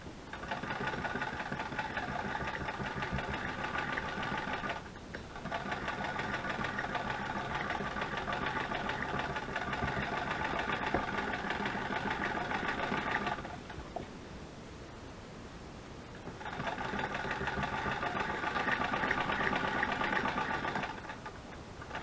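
A sewing machine runs in long steady stretches, a loud close mechanical hum and rapid stitching drone that stops briefly around five seconds and again for a few seconds near the end before resuming.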